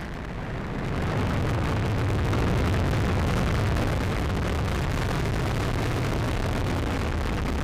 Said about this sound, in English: We have RD-180 ignition, and we have liftoff of the United Launch Alliance Atlas V rocket